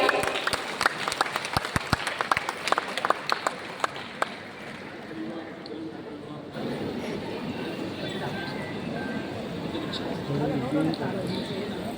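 Audience applause for speaker Aralu Mallige Parthasarathy at a gathering: scattered sharp claps over the first few seconds, then thinning into a murmur of crowd noise with voices talking.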